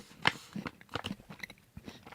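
Close, crisp crunching and chewing of milk tea chocolates with a cookie inside, with a sharp first bite followed by irregular crunchy chews.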